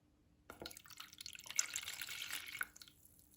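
Water poured from a small container into a larger one gives a close, steady trickling splash lasting a couple of seconds, with a few drips at the end and no talk.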